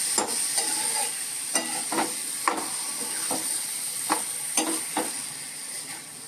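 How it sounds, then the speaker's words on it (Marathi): Spiced raw jackfruit vegetable stirred in a pan: a spoon scrapes and clacks in a loose, repeated rhythm over a soft steady hiss of cooking, with no talking. "आता ही व्यवस्थित ढवळून घ्यायची भाजी आपण तिखट मीठ सगळं लावलेलं आहे आता ही छान ढवळायची"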